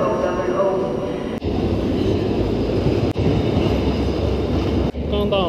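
A regional train travelling toward Katowice, Poland, rumbles steadily from inside the carriage with a loud, constant low roar and three sharp rail-joint clicks spaced evenly apart. Speech is faint or absent beneath it.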